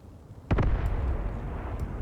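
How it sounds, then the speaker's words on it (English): A single heavy artillery shell slams into a forest in Graviteam Tactics Mius with a sharp, loud blast, followed by a long, deep rumbling decay that fades slowly. "The artillery keeps pounding this forest."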